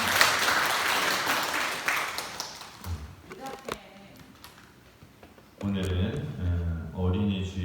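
Church congregation applauding during a Sunday service, a broad wash of clapping at the start that fades out within about three seconds, followed by quieter moments and then music or voices.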